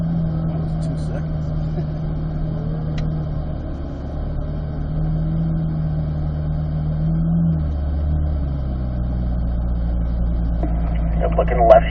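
A car on a timed run, its engine droning steadily and then dropping to a lower, heavier note as the throttle is squeezed, with a voice talking over it throughout.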